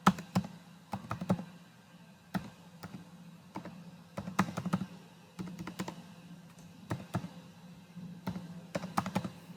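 Irregular bursts of typing on a computer keyboard, soft clicky key presses in short clusters with brief pauses, close and fairly quiet.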